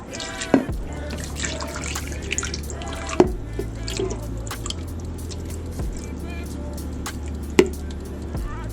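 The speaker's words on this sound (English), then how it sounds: "Next we're going to go and pour this over top of the chicken and cook it on high for 3 hours." Sauce is poured over chicken in a slow cooker, heard as wet drips and small splashes with a few sharper liquid plops, close and fairly quiet.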